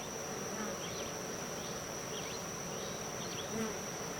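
Honey bees buzzing steadily in a queenless hive with laying workers, a dense continuous hum close to the open colony with occasional louder passes of individual bees.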